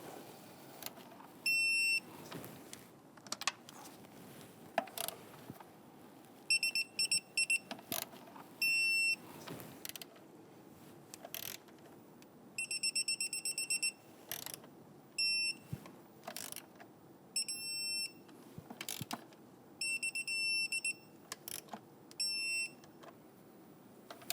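A torque wrench tightening the ignition coil bolts on a 2011-2021 Jeep Grand Cherokee 3.6L V6 to 89 inch-pounds, heard as quiet, intermittent clusters of short electronic beeps and faint clicks spread over time.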